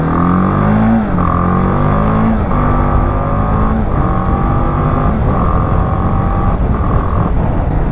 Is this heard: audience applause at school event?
no